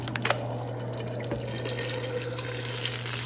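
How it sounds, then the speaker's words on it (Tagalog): Tap water runs steadily into a cooking pot for fish sinigang with miso and basa steak, a continuous close splashing stream with no talking. "Lalagyan natin siya ng tubig."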